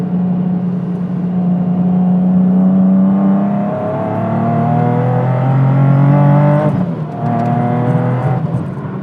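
A boosted Nissan 370Z revs hard on a damp road with the tires struggling for grip, giving a loud, close engine drone that climbs steadily in pitch, breaks off sharply around six and a half seconds, then surges again.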